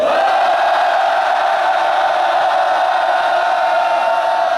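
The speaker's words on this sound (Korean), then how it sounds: "이 국회가 떠나가도록 힘껏 함성 한번 지르겠습니다" A crowd at a press conference at the National Assembly bellows a sustained rallying cry against an arrest consent motion, a loud, unbroken roar of many voices that holds steady for several seconds.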